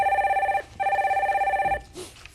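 Telephone ringing as a call connects on a radio phone-in show: two loud electronic ring bursts with a warbling, pulsing tone, separated by a short gap, followed by a faint click and a brief murmur.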